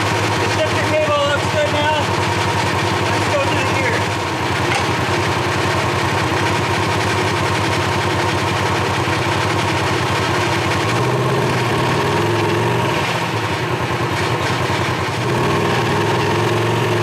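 Polaris RZR XP 4 1000 engine running with a bad noise traced to a faulty axle, a steady loud droning rumble with a rough, wavering tone throughout, heard up close.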